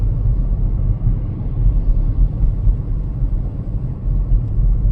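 A car drives slowly through a blizzard in St. Paul, Minnesota, making a steady low rumble of engine and road noise, close and continuous, with no voices.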